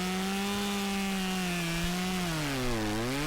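A chainsaw cuts through a standing tree trunk, its engine droning loud and close with a sustained steady pitch that dips slightly as the blade bites deeper into the wood.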